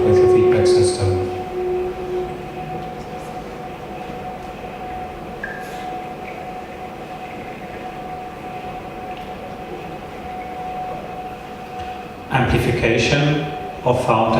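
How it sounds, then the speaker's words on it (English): Sustained feedback tones from a feedback system played on a boat drone and hum over a low, rumbling wash, steady for a long stretch before a louder, noisier burst near the end. "playing the boat with the feedback system"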